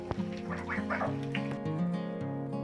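Geese eat watermelon after bathing, giving repeated nasal honks and quacking calls at close range over a soft background.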